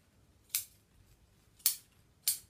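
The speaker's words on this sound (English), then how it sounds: "Now this can all be trimmed out." Scissors snip through upholstery fabric being trimmed off a Parsons chair, three crisp, close cuts spaced about a second apart in an otherwise quiet room.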